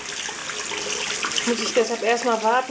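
Warm water runs from a bathroom tap, a steady splashing flow heard under a German-speaking voice that carries on over it.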